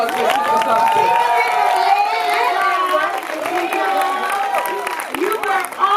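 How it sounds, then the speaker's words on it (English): Crowd at the Tyler Perry's Nobody's Fool movie premiere cheers, shouts and applauds for actress Tika Sumpter, a dense, loud burst of excited voices over clapping that holds throughout. "give a round of applause for Tika Sumpter"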